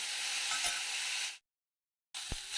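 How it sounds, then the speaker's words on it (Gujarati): Grated carrot sautés in ghee with a steady, bright sizzle, then a break of silence before the frying resumes with a low stirring thump. "ગાજર છે ને થોડું સોફ્ટ થઈ જાય ત્યાં સુધી આપણે એને ઘીમાં સાતળશું"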